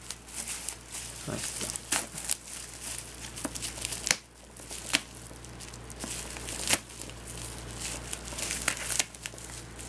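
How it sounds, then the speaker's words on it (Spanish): Tape is torn and bubble-wrap packaging is unwrapped from a Lightake DM003 mini RC quadcopter box, producing close crinkling with several sharp tearing snaps and a brief voice. "si es cinta, hay que romper la cinta"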